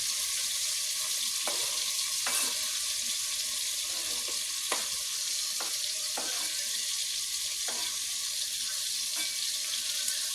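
Celery and peppers frying in a pan, a steady broadband sizzle running throughout with scattered sharp clicks and scrapes from stirring, no voices.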